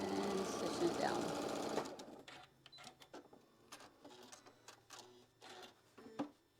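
A sewing machine stitches down a quilt block in a steady rapid run up close, then stops, leaving scattered light clicks and handling taps.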